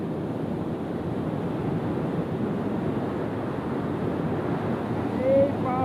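Water rushing through Farakka Barrage forms a steady, loud broadband roar with a windy wash that runs unbroken throughout, and a brief faint whistle-like tone comes near the end.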